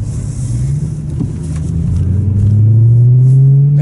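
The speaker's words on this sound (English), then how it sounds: "we're going through some speed bumps here that you just got to be careful" A BMW E90 M3 with a six-speed manual rolls slowly over speed bumps. Its low engine drone holds steady and then rises gradually, close and continuous, with no talking.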